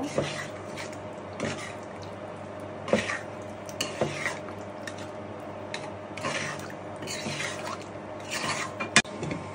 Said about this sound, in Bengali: এখন আমি এটা ভালো করে মিশিয়ে নেব